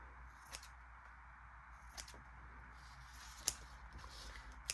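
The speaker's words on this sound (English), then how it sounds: "I'm gonna cut us a piece of this lace." Scissors snip through a piece of lace fabric, a few separate quiet cuts spaced apart, close-up against a low steady background hum.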